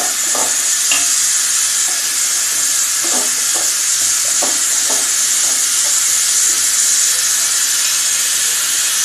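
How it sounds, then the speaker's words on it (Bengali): A dish cooking in a pan for an egg recipe, stirred with sugar added: loud, constant hissing sizzle with soft irregular scrapes and taps of the spoon beneath, no talk. "একটু ভালো করে নাড়াচাড়া করে নিতে হবে"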